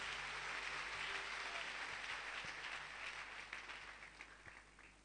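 A church congregation applauding together at a service, a dense sustained roar of clapping that fills the space and slowly tapers toward the end.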